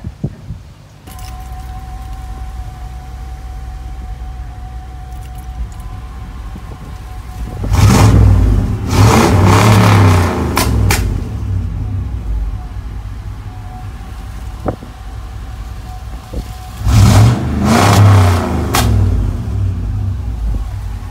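Chevy OBS truck exhaust revving: a steady idle rumble rises twice into loud, deep revs lasting a few seconds each, then settles back to idle between them.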